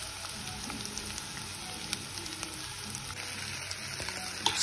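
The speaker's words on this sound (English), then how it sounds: "So I'm here frying some onions and cooking some noodles here." Onions and noodles frying in a pan for chow mein, a steady close sizzle with soft stirring clicks and scrapes throughout, no talking.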